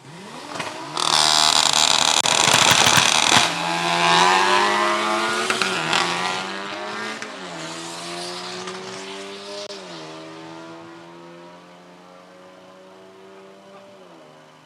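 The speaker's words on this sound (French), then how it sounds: "c'est Rodri de Roche qui pilote la Golf 6 dans le couloir de droite" A Volkswagen Golf 6 race car launches down the right lane of a drag strip, engine roaring loudly up through the gears with clear shift breaks, then fading into the distance under faint crowd noise.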